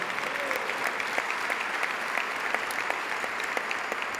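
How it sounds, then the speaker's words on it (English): An audience at a Providence College announcement applauds a dignitary on stage. The clapping is steady and even at moderate volume, with scattered sharper claps standing out from the crowd. "Nice round of applause, Father."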